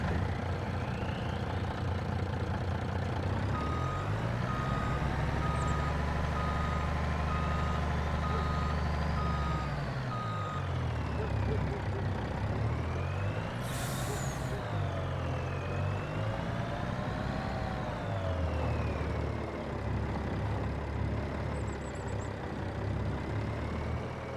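A truck reverses in the Farming Simulator 25 video game, with a steady loud reversing beeper over a rumbling diesel engine that rises and falls as it manoeuvres, plus a brief hiss of air brakes partway through.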